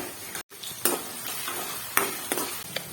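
Chopped raw onions frying in hot oil in a pan give a steady close sizzle, with a few brief scraping stirs cutting through it.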